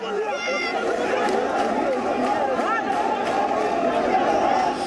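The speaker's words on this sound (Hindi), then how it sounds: "कोलकाता में सीबीआई दफ्तर के बाहर पहले से भीड़ मौजूद थी।" Crowd gathered outside the CBI office in Kolkata, a continuous dense babble of many overlapping voices at a steady level throughout.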